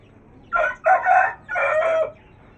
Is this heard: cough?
no